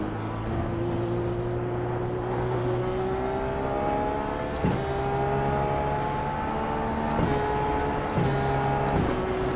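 A Dallara IR-18 race car engine in iRacing, turned down and run gently on track, gives a steady close droning note that climbs in pitch, broken by several quick gear shifts. No one talks.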